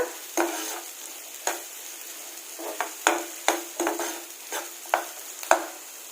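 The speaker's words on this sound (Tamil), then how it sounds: "ஒரு 15 நம்பர் சின்ன வெங்காயம். போட்டு ஃப்ரை பண்ணிக்கோங்க." About fifteen small onions fry in a pan for a quail pepper fry, a steady sizzle broken by roughly ten sharp, close spatula scrapes at an irregular pace.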